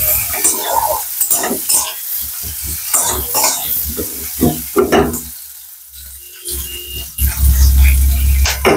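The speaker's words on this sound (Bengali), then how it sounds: "তেলটা গরম হয়ে গেছে, কড়াই যেহেতু গরম হয়েছে তেলও গরম হয়ে গেছে। জিরেটা দিয়ে দিলাম, আর গোটা গরম মশলাটা দিয়ে দিলাম।" Cumin seeds and whole garam masala dropped into hot oil in a heated kadai, sizzling and crackling up close, with stirring clatter, a cough and a louder burst of frying near the end.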